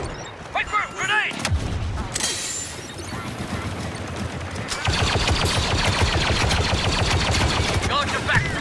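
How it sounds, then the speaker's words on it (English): Battlefront 2 battle with rapid blaster and gunfire volleys and loud blasts, including a grenade explosion, amid constant combat noise and brief shouted voices. "Wait for it! Grenade!"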